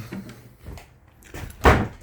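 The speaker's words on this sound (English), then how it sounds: "slamming the door." A door slams shut with one sharp thud near the end, following a few softer knocks and shuffling handling sounds indoors.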